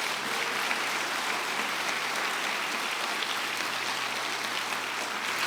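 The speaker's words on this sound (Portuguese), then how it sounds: "Vamos dar uma linda salva de palmas para Jesus." A church congregation applauds in honor of Jesus, a dense, steady wash of clapping from many hands that holds evenly throughout, fairly loud and without talk.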